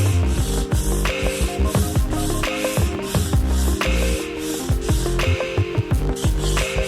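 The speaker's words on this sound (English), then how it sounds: "Sand off the high spots." Rhythmic sanding strokes knock down the high spots in the dried finish of a wooden fireside table. The scratchy rubbing is steady and close, with no voices.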